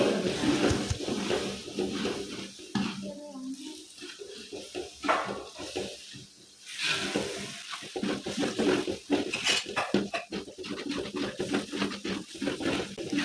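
Ginger garlic paste, 300 grams each, is stirred and sautéed in a cooking pot for chicken biryani, with sizzling hiss, scraping and clanks of the spoon against metal in uneven bursts.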